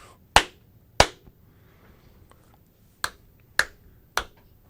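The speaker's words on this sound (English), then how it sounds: "Clap three times here" Five sharp, separate hand claps recorded close up in a quiet room to sync a podcast recording, two near the start and three more after a pause, each a crisp crack with a short decay.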